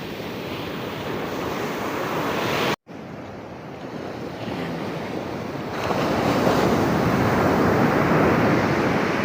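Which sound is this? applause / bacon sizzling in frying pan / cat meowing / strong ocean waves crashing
strong ocean waves crashing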